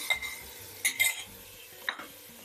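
Fried minced meat with tomato purée and paste, stirred in a pan for an okra dish: a faint simmering sizzle under a few sharp scrapes and clinks of a utensil against the pot, close by, no voices.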